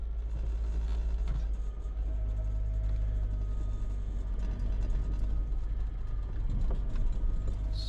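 A car drives through Wausau, Wisconsin in fog, its low steady engine and road rumble continuous and close throughout, with no talking.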